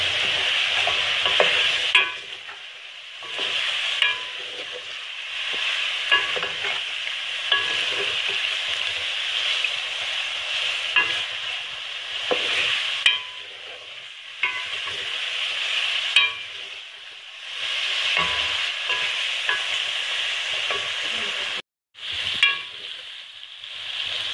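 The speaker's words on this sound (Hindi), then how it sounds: "ये हम इसमें शामिल करके इसको फ्राई कर लेंगे।" Ground red chili and cloves fry in a pan for chicken korma, a sustained bright sizzle broken by repeated spoon-stirring scrapes and a brief dropout near the end, close and steady, no voices.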